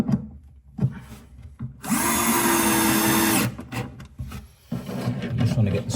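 A power drill drives a screw into a plywood tool chest, with a loud steady whine for about a second and a half between short handling knocks and quieter shop noise.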